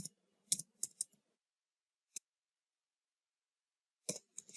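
Keys tap on a computer keyboard as a web address is typed, heard as a few short clustered bursts of quiet clicks separated by silence, with a single isolated tap in the middle and no voices.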